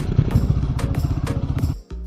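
A motorcycle carrying four riders drones steadily close by with a throbbing low rumble, cutting out briefly near the end before picking up again.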